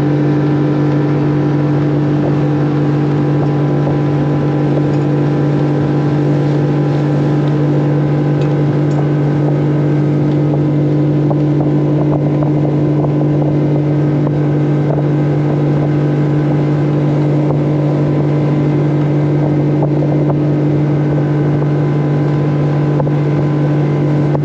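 A 300 hp outboard on a Sea Pro 250 bay boat runs at wide open throttle, giving a loud, steady, unbroken engine drone with rushing wind noise throughout.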